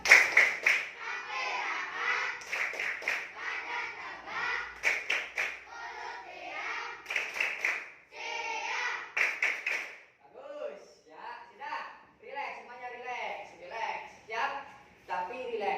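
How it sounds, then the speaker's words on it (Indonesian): A class of children performs the "tepuk siap" clapping chant before a lesson, rhythmic group claps in bursts mixed with young voices chanting along, loud and close in a classroom. "ayo semuanya tepuk siap"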